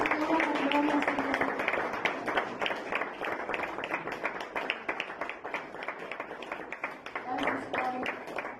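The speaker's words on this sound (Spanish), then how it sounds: "Te damos un aplauso, Señor, porque tú mereces toda la honra" A church congregation claps during a Thursday evening service, with rhythmic, fairly close applause that rises and falls while a voice keeps speaking over it.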